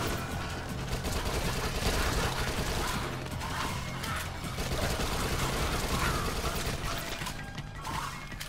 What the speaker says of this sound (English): Oh, I forgot I have an SMG.